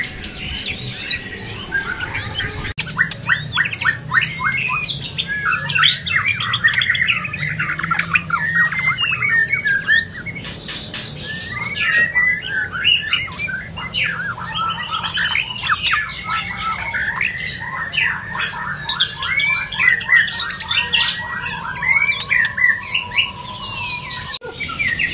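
White-rumped shama (murai batu) calling in bursts of loud squawks and rapid chirping trills, repeated over and over at close range with a steady background hum.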